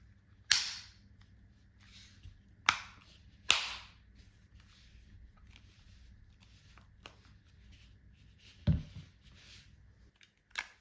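A remote control's plastic case snaps shut in a few sharp, isolated clicks spaced over several seconds, close and crisp against a quiet background, followed by a softer thump later.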